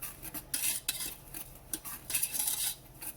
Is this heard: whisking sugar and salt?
yes